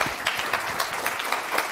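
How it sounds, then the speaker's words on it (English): Listeners at a talk on privacy and technology clap, a short burst of fairly loud, dense applause with distinct individual claps throughout. "Let's give one extra applause"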